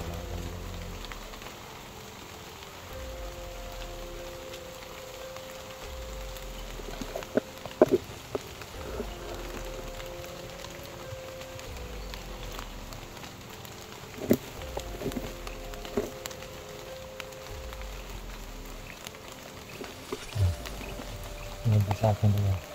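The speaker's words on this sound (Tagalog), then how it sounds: "Malakas pa rin ang ulan." Steady heavy rain in a horror survival video game hisses throughout with scattered sharp ticks and thumps, while muffled voices talk intermittently over it.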